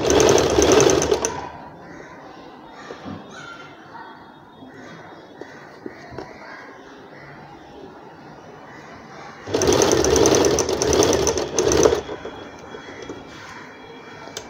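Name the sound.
sewing machine stitching around the curved edge of an umbrella frock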